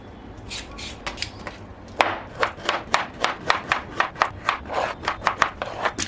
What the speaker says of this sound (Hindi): तो नेक्स्ट इंग्रेडिएंट हमारा ये है कैरेट एंड आलू। हम इसको पील करेगा।